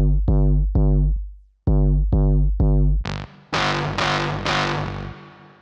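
Electric guitar played through a Boss RC-505 loop station with distortion and reverb effects: a few clean plucked notes and chords, then loud, heavily distorted strummed chords with a long reverb wash, no talking.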